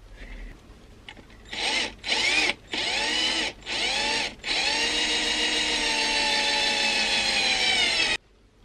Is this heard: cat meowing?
no